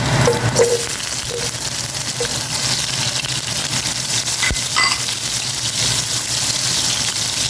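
Garlic and then onion are sautéed in a pan for pochero. They give a steady, close sizzle of frying with a faint clink partway through.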